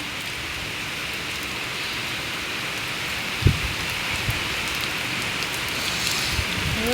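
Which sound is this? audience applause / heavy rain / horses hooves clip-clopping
heavy rain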